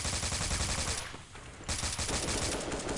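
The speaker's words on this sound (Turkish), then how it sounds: "birileri bana sıkıyor" Rapid automatic gunfire in Counter-Strike 1.6, loud sustained bursts that pause briefly in the middle and then resume, with no voices.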